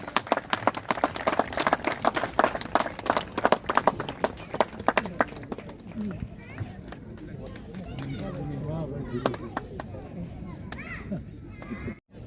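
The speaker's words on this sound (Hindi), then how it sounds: "Best player of the tournament mister दीपक कंवर के लिए जोरदार तालियां।" An outdoor crowd at a tournament prize distribution claps loudly and steadily for the best player, then the clapping fades into murmuring voices and a speaker talking.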